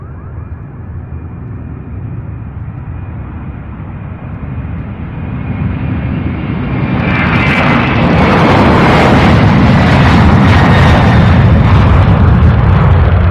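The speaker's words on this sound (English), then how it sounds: "And that 767 getting a move on. The first departure of today." A Boeing 767 departs from Louisville's UPS Worldport, its jet roar building from a steady rumble to a loud, broad, sustained blast as the aircraft powers away nearby.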